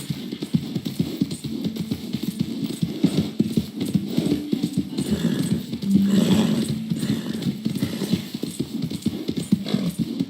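Horse hooves clip-clopping in the Red Dead Redemption video game, a brisk, close, rhythmic run of hoofbeats with a brief whinny partway through and no speech.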